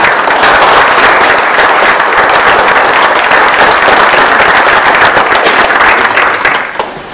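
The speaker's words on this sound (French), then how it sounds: "je pense qu'on peut les applaudir déjà tous les deux" Loud, dense applause from a town gathering in Saint-Guyomard honouring the former mayor and deputies, a steady roar of many hands clapping close by before easing off at the end.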